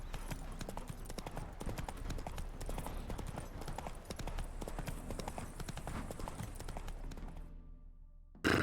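Roach, the horse in The Witcher 3, gallops steadily, with continuous rhythmic hoofbeats up close over a busy game soundscape before cutting out abruptly near the end.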